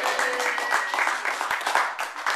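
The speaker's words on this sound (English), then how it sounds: "so I'd like to give them a round of applause." A room of supporters clapping at a township trustee campaign gathering on a Saturday, a brief, moderately loud burst of scattered applause with individual claps audible throughout.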